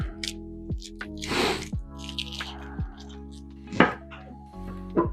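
A knife cuts shallots on a cutting board in a few distinct close, crisp chops over a low steady kitchen hum.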